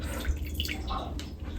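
Water poured into a bowl of yeast and sugar for dough, a brief close splashing trickle lasting about a second and a half.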